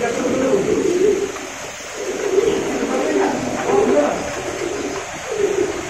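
Pigeons in a large loft in Munshiganj near Dhaka, cooing steadily in a soft, overlapping chorus close by, with continuous rhythmic coos and no voices.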